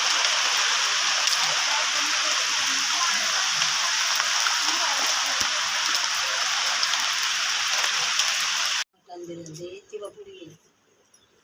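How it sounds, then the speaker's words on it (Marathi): Heavy rain pours down steadily and loudly for most of the stretch, a dense continuous hiss, then cuts off abruptly, leaving faint voices talking in a quieter space. "पाऊस बघा जोरात होईल."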